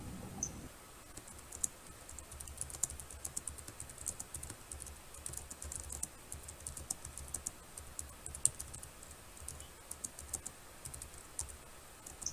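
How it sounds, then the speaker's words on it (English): Someone types on a computer keyboard with a continuous patter of quiet, fast key clicks and occasional louder strokes, alone and close by, with no talking. "Yeah, I'm typing."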